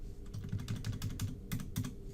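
Rapid keystrokes on a computer keyboard, typed to enter a volunteer's name into a search field; a steady run of close, crisp clicks with a few louder taps near the end, and no talking.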